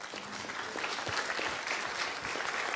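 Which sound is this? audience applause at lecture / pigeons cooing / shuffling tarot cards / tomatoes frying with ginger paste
audience applause at lecture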